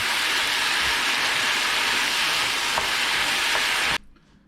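Beef and asparagus stir-frying in a pan, with a loud, steady sizzle and occasional faint stirring clinks that runs continuously for four seconds, then cuts off abruptly.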